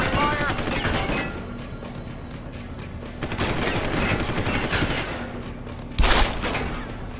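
Rapid gunfire in Deus Ex: Human Revolution, a loud continuous fusillade of shots with one heavier blast near the end, set against dense game noise.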